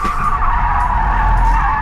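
A Korean electric car's tires skid and squeal steadily as it accelerates hard out of a corner on a track, under a continuous engine-free drive whine, loud and close.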